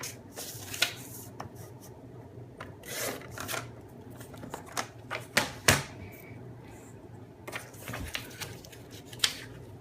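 Scissors snipping red paper for a scrapbook card layout, scattered close cuts and paper rustles at an uneven pace, with soft handling sounds between them and no talk.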